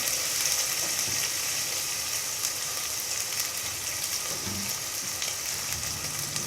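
Fried onions sizzle steadily as they are sautéed into chana daal in a dhaba-style pan, a constant close hiss with soft stirring and no voices.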